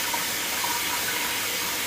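Frozen shrimp get rinsed under a running kitchen tap, a steady, hissing gush of water splashing continuously at moderate volume with no voices.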